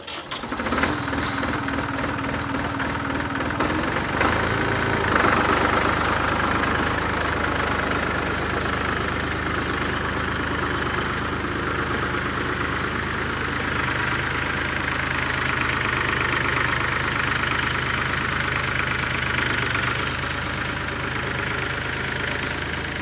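A tractor stuck in clay with tires clogged and no weight on the back, its engine chugging at a rhythmic idle, then revving up and laboring at a steady loud drone, close by, with no talk.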